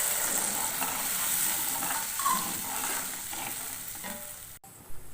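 Potatoes fry in a pan, giving a soft, continuous sizzle with faint scraping and clicking from stirring, fairly quiet and steady throughout, with a brief bump near the end.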